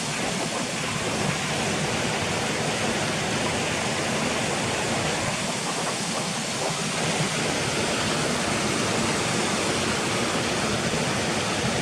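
Waterfalls near Crackpot Hall roar steadily, a dense broadband rush of falling water that stays close and constant throughout with no voices.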